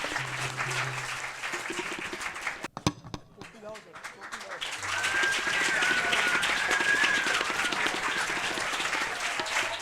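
Church congregation at a Sunday service applauding loudly, a dense roar of clapping that briefly dips, then swells back fuller and sustained, with a voice speaking over the early part.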